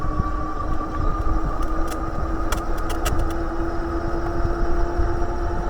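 A moped-style electric bike with full suspension rides on throttle downhill, picking up speed: a constant motor whine with a steady tone over rough wind and road rumble, plus several short rattling clicks.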